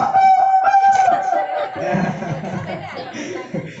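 Kindergarten children at a Maulid Nabi gathering imitate a rooster's crow together, one drawn-out high vocal call rising over a noisy, chattering crowd of young voices with giggles mixed in.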